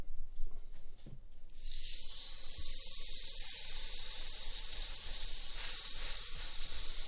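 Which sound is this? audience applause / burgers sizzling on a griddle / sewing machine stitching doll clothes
burgers sizzling on a griddle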